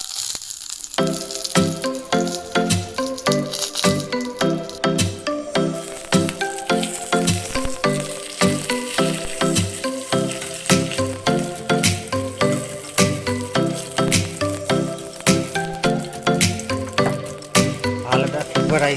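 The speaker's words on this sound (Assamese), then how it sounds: "এতিয়া আমি দিম ইয়াত তেজপাত দিম, আৰু ডালচেনি দিম, আৰু ইলাচি দিম।" Bay leaf, cinnamon and cardamom frying in hot oil for a palak chicken dish, a loud steady sizzle with rhythmic stirring scrapes running throughout, close up and without talk.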